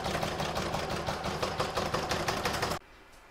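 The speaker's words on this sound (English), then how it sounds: "I'm now going to pop that back in my machine and stitch round number 5." A sewing machine stitching crazy-patch patchwork for a Christmas stocking, running in a fast, even chatter of stitches for under three seconds before stopping abruptly into near silence.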